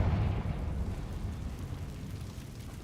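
A Confringo blast spell in Hogwarts Legacy erupts in a deep rumbling burst that starts loud and slowly decays into a low roar, with no voices over it.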